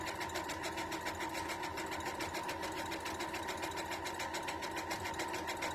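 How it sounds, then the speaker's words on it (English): Sewing machine stitching a patchwork quilt square, a fast steady mechanical chatter with a continuous hum running throughout, fairly quiet and heard alone without voices. "this is a rare thing, getting to see Lisa sew"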